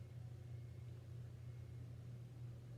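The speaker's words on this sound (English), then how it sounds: "That's a loud car." A loud Camaro rumbling across the street, heard as a faint, steady low drone in the distance that holds throughout.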